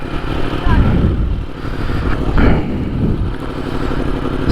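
A motorcycle in neutral starts up nearby, a loud rough engine rumble settling into a steady idle with a couple of throttle surges, while a person speaks over it.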